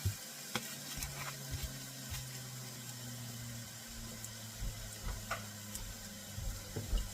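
Carrots and sweet potato fry in melted ghee, a soft steady sizzle with occasional scrapes and taps of a utensil as the pan is stirred, fairly quiet throughout.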